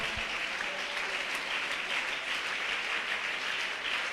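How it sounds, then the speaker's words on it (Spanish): A church congregation applauding loudly and steadily throughout, a dense continuous wash of clapping. "Dale ese aplauso al Señor"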